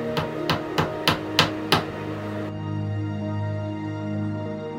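Six quick, evenly spaced hammer blows ring out, followed by a sustained hum for the rest of the clip.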